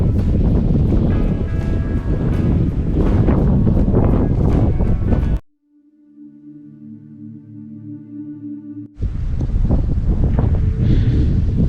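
Strong wind buffets the microphone outside St John the Evangelist Church in Cadeby, Doncaster, with loud roaring gusts, briefly dropping away to a softer hum before surging back.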